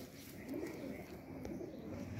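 Pigeons coo in low, soft murmurs through a loft, with steady cooing from several birds close by and a faint chirp here and there.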